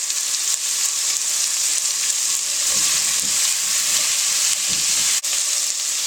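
Asparagus sautés in a pan seasoned with salt and pepper, a loud continuous sizzle with bursts of stirring and scraping, close and steady, without speech.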